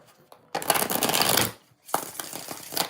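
A deck of tarot cards is shuffled up close in two long riffling bursts separated by a brief pause, crisp papery rustling with no voices.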